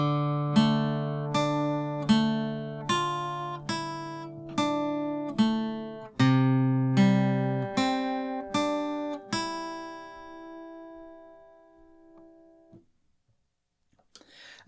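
An acoustic guitar plays a song's riff in a beginner lesson, a slow, clear sequence of plucked single notes and dyads in even rhythm, close and unaccompanied, with the final notes left ringing and fading into near silence.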